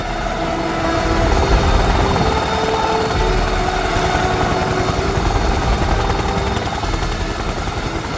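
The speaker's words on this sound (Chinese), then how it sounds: "这天，飞行员训练的是高难度的特技飞行。" A military aircraft of the Hong Kong garrison flying aerobatic training manoeuvres produces a loud, continuous engine roar that swells slightly and holds steady throughout.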